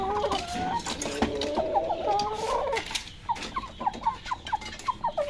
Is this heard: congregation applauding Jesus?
no